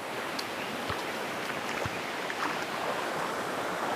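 Rushing river water near hilly farmland with soybean fields and grass, a steady broadband wash of flowing current with occasional splashes and wind buffeting, continuous and close with no voices.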